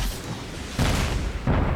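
Deep booming explosions rumble twice in quick succession over a continuous noisy background in the video game Undawn.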